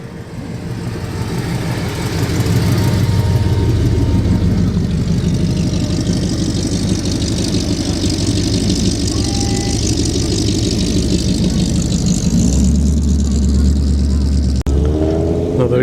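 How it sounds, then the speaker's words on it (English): A presumably V8-powered Ford pickup runs at a classic car show at Thoresby Park, Nottinghamshire, its low, steady engine rumble continuing throughout under nearby talk. "Ooh, I spy Ford pickup, presumably V8 powered."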